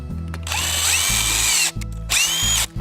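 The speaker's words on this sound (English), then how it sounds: "pre-drill the hole." A power drill whirs loudly into wood in two short bursts, pre-drilling screw holes for a horizontal fence, its motor whining up and then cutting off briefly between runs.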